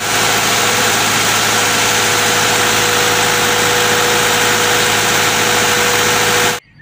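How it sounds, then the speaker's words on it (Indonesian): A concrete mixer truck engine idles loudly and steadily with a constant mechanical drone and whine, cutting off abruptly at the end. "Yang ini truk molen."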